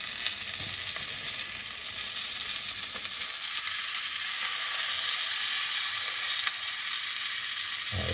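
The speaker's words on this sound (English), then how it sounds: "That's the sound you want to hear, that sizzle." Birria tacos stuffed with beef and cheese frying in hot oil, giving a steady, loud, close-up sizzle and crackle that holds without a break.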